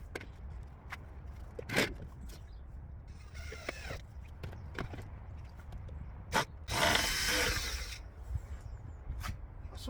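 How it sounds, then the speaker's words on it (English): Faint clicking and creaking as a drill bit ratchets on a screw head while driving into wood, with a brief burst of grinding noise partway through, fairly close and quiet. "So that's why it ratchets, you hear that ratchet noise."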